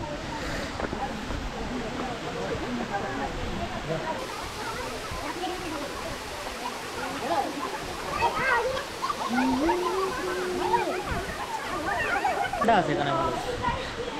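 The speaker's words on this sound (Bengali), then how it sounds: "চলে এলাম কিন্তু মিয়ং ওয়াটারফলসে" Mayong waterfall in North Sikkim roars as a steady, broad rush of falling water throughout, with voices talking over it and a brief tonal call partway through.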